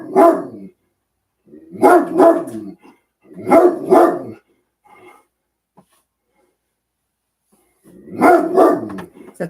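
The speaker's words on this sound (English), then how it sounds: "Is that the mailman we're barking at?" A dog barks in three separate bursts of two or three sharp barks, loud and close, with quiet pauses between them and no talk over them.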